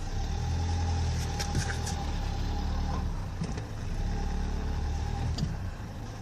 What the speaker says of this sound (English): Every time I rev up the engine, look at him.